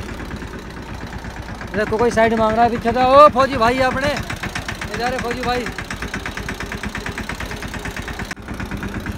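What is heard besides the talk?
tractor engine running while driving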